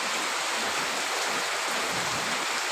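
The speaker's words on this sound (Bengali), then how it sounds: "প্রচুর পরিমাণে মুষলধারায় বৃষ্টি হচ্ছে" Heavy torrential rain pours down in a dense, steady hiss that stays constant throughout, with no voices over it.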